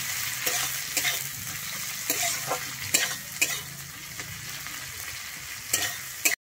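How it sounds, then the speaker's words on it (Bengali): Onion and green chillies frying in a pan, a steady sizzle with occasional scraping and stirring clicks from a spatula. "আমি পেঁয়াজ কাঁচা লঙ্কাটা কিন্তু একটু ভালো করে ভেজে নেব।"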